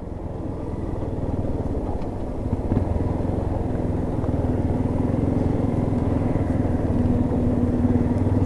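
Yamaha XTZ Lander 250 motorcycle circling at low speed, its single engine putting out a steady, close mid-pitched drone that swells slightly partway through, with no talking.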